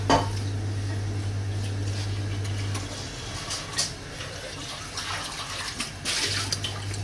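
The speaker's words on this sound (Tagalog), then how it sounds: "Haluin lang natin hanggang kumulo." A utensil stirs maja blanca mixture in a pot over heat, giving soft, wet scraping and sloshing against a steady low hum that drops out midway and returns near the end.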